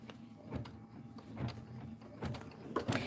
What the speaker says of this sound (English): And this is 2 minutes of stitching.